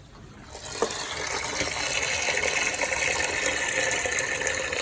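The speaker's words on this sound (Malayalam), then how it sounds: "നമ്മൾ ഇതിനകത്ത് കുറച്ച് വെള്ളം ഒഴിച്ചത് കലക്കി എടുക്കുകയാണ്" Water pours steadily into a vessel of arrowroot pulp and is stirred, a continuous close gushing, splashing wash that swells after a quiet start and runs on without a break.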